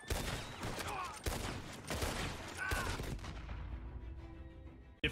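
A Red Dead Redemption 2 roleplay shootout: rapid, overlapping gunshots crack in a dense volley for about three seconds, then thin out into a fading echo and quieter background.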